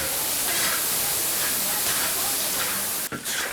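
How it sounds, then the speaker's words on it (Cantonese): Duck pieces stir-fry in hot oil with sour bamboo shoots and spices, giving a loud, continuous hissing sizzle close up that barely changes throughout, with no voices. "把這個鴨子炒糟了，再下油爆香，爆香以後你再下這個酸筍，再下這個香料"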